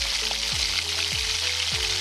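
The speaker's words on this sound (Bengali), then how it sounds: "পেঁয়াজগুলো আমি ভালো করে ভেজে নেব" Onions and spice paste frying in a wok, a steady loud sizzle throughout with a few soft scraping stirs recurring about every half second, no voices.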